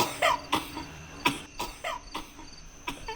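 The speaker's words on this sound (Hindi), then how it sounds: "वायरल खांसी हो ही" Several short, sharp coughs scattered over a few seconds, a viral cough from someone with a mild fever, heard close and alone with no talk.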